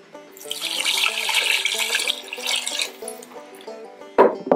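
Water pours steadily into a cooking pot holding carrots and smoked sausage, a continuous splashing stream lasting several seconds before a brief louder clatter near the end.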